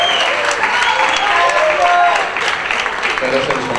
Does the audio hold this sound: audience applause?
yes